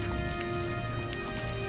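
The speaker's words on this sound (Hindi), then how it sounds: "अरे इतनी बारिश हो रही है, छाता तो लेते जाओ।" Heavy rain falls in a steady, even hiss that fills the whole moment. The sound is close and continuous, with a faint low hum beneath it and no voices.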